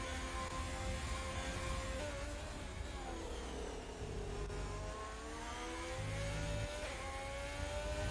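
A Formula 1 car engine from the racing game F1 2020 at the Brazilian Grand Prix screams continuously at high revs, rising and falling through gear changes while sliding through a corner, loud and unbroken.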